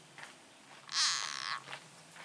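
A single frog in Belgrad Forest lets out one short, raspy croak, faint and somewhat distant, amid quiet woodland background with a few soft rustles.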